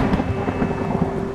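Animated lightning strike with a thunder effect: a steady rumbling roll with rain-like hiss, continuous and fairly loud across the short stretch, no voices.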